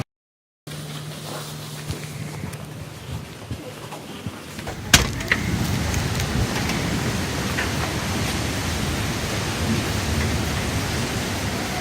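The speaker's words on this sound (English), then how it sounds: "Oh no, it's raining." Rain falling outside, a dense steady hiss that starts abruptly and continues at even loudness, with a sharp crackling burst partway through, heard without any talking.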